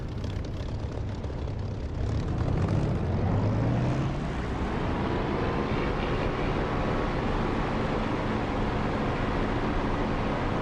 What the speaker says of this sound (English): I'm gonna throttle up and get going.